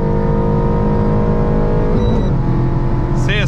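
A Renault Sandero RS with a loud, free-flowing exhaust drones steadily under hard acceleration through the gears, with a sustained close engine roar and a brief shift dip near the end.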